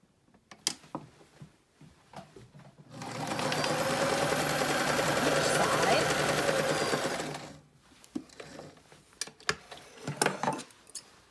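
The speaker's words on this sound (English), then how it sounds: "A lining fabric, and we're going to sew down the little hem that we just ironed" A sewing machine stitches down a hem on the lining fabric of a face mask, running in one steady whirring burst of about five seconds, framed before and after by clicks and fabric handling nearby.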